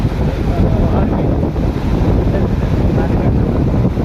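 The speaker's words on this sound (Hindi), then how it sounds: "देखिए पानी का वेग देखिए, पानी का वेग देखिए" Powerful river water rushing through the open gates of the Koshi barrage, a loud, steady roar buffeted by wind on the microphone.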